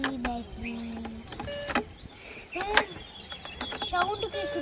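A small battery-powered mini fishing game toy whirs and spins with a thin mechanical hum and clicks, heard up close while a person talks over it.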